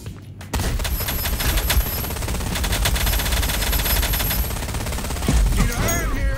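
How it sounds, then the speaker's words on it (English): Sustained automatic gunfire rattles without pause in a Rogue Company match, several weapons overlapping in dense rapid bursts, loud and close, with a brief quiet moment at the start. "It's like three people shooting at me from three different directions."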